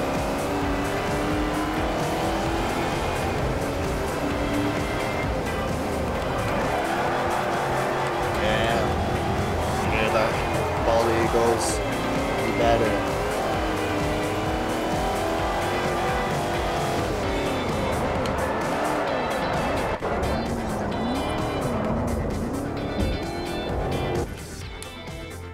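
Tires screech and cars roar through a race in Forza Motorsport 4, a loud, continuous wash of engine and squeal that swells and shifts through corners, then drops slightly at the end.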